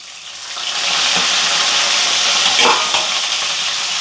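Curry leaves, crushed garlic and finely chopped onions fry in hot oil, a loud steady close sizzle with light crackles and a few stirring clatters.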